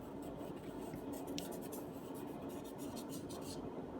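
Pencil sketching the clavicles of a skeleton figure on paper, a steady soft scratchy scraping that runs continuously and close, with a few brief brighter strokes and no talking.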